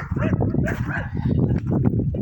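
Several dogs bark outdoors in a garden, overlapping yips and barks mixed with a woman's speech in a noisy, busy outdoor setting.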